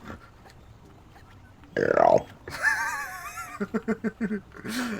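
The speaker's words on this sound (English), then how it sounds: "Shrek has like a very distinctive burp sound effect." Shrek's burp sound effect from a video game on a PlayStation Classic, a loud gravelly belch bursting out mid-clip, followed by voiced sounds and a run of short rhythmic grunts, with speech around it.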